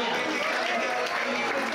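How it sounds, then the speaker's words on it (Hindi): Applause at a Teachers' Day celebration at Sanskriti IAS, a dense, continuous wash of clapping from a crowd, loud and close, lasting under two seconds. "शानदार तालियां।"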